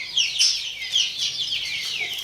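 Hens kept in backyard cages alongside ducks cluck and squawk in short, repeated bursts, loud and close, with no voices over them.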